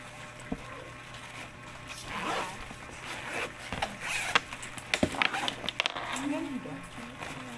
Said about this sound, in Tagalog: Tapos, ayan, may zipper din siya dito